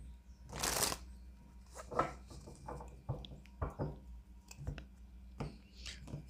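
A Hermetic Tarot card deck is shuffled close by, with repeated papery riffles and soft flicks, one loud burst early and then lighter irregular shuffles and taps.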